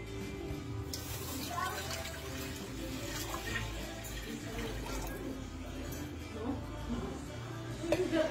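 A litre of water is poured into a pot for syrup, a steady splashing flow heard throughout at moderate level, ending with a few clinks.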